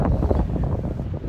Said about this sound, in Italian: c'è un vento fortissimo là sopra che soffia veramente molto forte